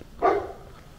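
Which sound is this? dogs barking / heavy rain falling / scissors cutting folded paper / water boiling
dogs barking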